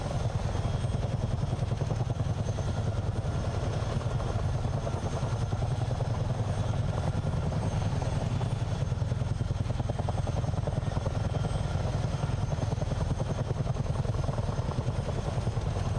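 A CH-47 Chinook twin-rotor helicopter in Microsoft Flight Simulator cruises along the Potomac River, a steady, dense rotor thump and engine drone at even volume throughout.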